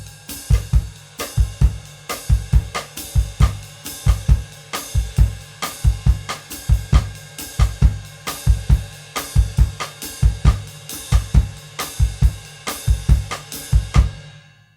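Brazilian clave rhythm played on percussion, a steady syncopated pattern of sharp, close hits with deep low thumps repeating evenly throughout, alone with no talk, ending in a short decay.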